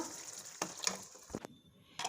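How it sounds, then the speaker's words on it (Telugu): Water pours into a pan of pav bhaji curry in short, quiet splashing bursts with brief gaps between them, close by and without talk. "one and half glass water వేస్తున్నాను"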